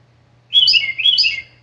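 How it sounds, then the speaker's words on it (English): A bird chirps outdoors at a summer camp, giving two quick bursts of high, bright tweeting notes in close succession. The calls are loud and clear over a faint low hum, with no voices. "And that bird is super chirping."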